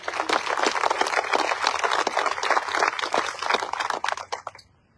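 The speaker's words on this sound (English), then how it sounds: "Please join me as we applaud all of these special people." Audience at a peace officers' memorial service applauding, a dense crowd of clapping hands that holds steady for about four seconds before trailing off into silence.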